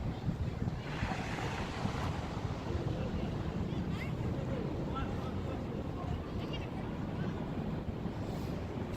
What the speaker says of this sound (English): Let's take a nice deep breath, listen to the waves